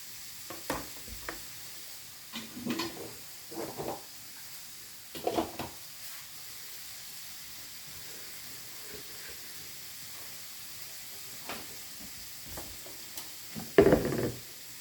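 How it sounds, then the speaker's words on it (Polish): Soft continuous sizzle of bacon frying in a pan, with occasional scraping and stirring clatters, louder near the end. "boczek się smaży, cebulka pokrojona."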